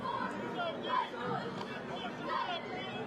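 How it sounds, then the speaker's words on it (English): A big crowd at a high school football game on senior night in Chatham murmurs and chatters steadily, a diffuse babble of many voices with a few louder calls rising out of it. "Big crowd here tonight."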